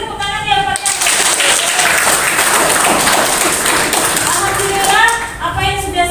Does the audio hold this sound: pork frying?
no